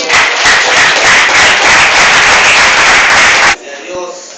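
A church congregation claps and applauds loudly and steadily for several seconds at a Spanish-language sermon, then the applause cuts off abruptly into quieter room sound.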